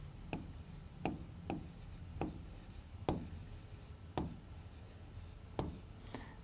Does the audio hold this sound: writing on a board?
yes